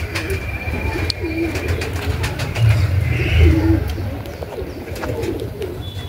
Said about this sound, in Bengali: ফুলশিরা টাইপেরই পায়রা আছে, দেশি পায়রা।